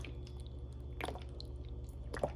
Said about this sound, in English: Just keep on squirting some in here